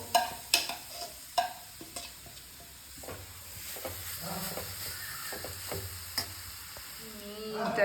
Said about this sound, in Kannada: ಇವಾಗ ನಾವು ಕ್ಯಾರೆಟ್ ಹಾಕಿ ಸ್ವಲ್ಪ ನೀಟಾಗಿ ಫ್ರೈ ಮಾಡ್ಕೋಬೇಕು